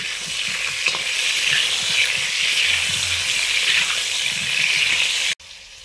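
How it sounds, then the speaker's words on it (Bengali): Potatoes for a meat curry fry in a hot pan with a steady, loud sizzle and hiss, stirred now and then, before the sound cuts off abruptly near the end. "মাংসের আলুগুলো ভেজে নিচ্ছি।"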